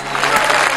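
Audience applause at the FIFA Football Awards right after a performance, a dense, steady burst of clapping from a large crowd, heard briefly and fairly loud.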